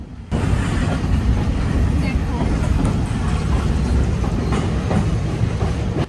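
Passenger train in Sri Lanka heard from inside a first-class carriage near Nuwara Eliya: loud, constant rumbling with rattling and clickety-clack of the wagon over the rails.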